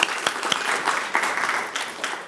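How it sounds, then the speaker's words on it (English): Audience applause at a chamber of commerce luncheon, a loud, dense burst of clapping from a crowd of attendees, continuing steadily throughout. "a round of applause."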